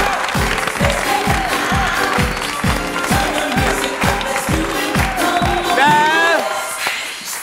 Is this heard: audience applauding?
yes